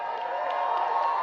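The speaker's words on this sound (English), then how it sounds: "Give yourselves a round of applause." Graduation crowd at a Class of 2022 commencement cheering and clapping, a steady dense roar of many voices and hands, loud and close, lasting only a moment.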